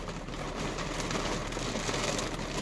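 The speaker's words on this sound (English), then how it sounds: "we're starting to get like squalls, and so like you can hear it. it's raining" Steady rain from storm squalls hisses across the whole clip, a dense, even wash of drops falling on surfaces, with no voices over it.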